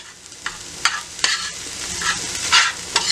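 Vegetables and onions sizzle steadily in a pan for a vegan lunch, broad hissing frying noise with several sharp scrapes and clacks of stirring scattered throughout, fairly close and alone without voices.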